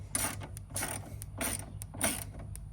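A ratchet wrench loosening the lower shock bolts on a Kawasaki Brute Force 750 ATV during a High Lifter 2-inch lift kit install, heard as four quick bursts of close metallic clicking at an even pace.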